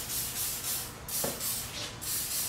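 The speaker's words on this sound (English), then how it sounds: "you want to use some WD-40 and spray down the cylinder" WD-40 aerosol sprayed down the cylinders of an M52 stroker engine block during a build, close hissing bursts in several short pulses with brief pauses between them.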